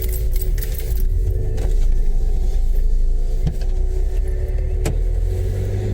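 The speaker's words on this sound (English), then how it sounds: "There's a car coming." A car, a learner driver, approaching and passing in Stirling town centre: a steady close engine and road rumble with a few sharp metallic clicks and rattles over it.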